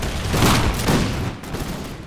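Musket volleys from troops in an American Revolution battle game crackle out in a rough ragged fusillade, loud overlapping shots rolling through about two seconds.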